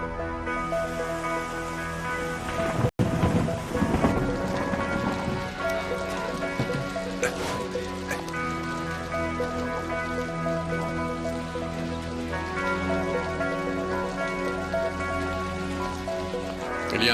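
Steady, dense rain pours down close by, a continuous wash over a sustained low rumble, with one sharp crack-like burst early on before the downpour carries on evenly.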